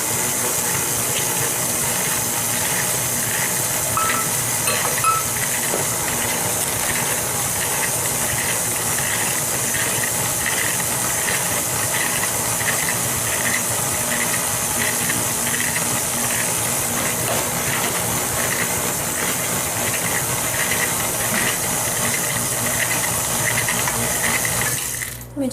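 KitchenAid stand mixer beating butter and sugar for a cream cheese pound cake, a steady loud whirring drone with faint rattling, running continuously at close range with no talk.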